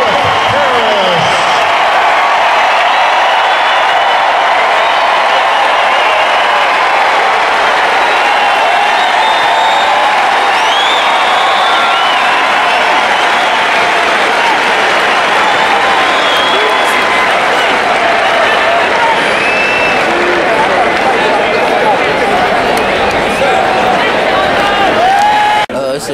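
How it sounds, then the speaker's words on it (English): A crowd at a college football awards ceremony applauds a star punt returner, a steady, dense wash of clapping with some cheering that holds for about twenty-five seconds before tapering off at the end. "Big round of applause for nature's top punt returner, Cliff Harris."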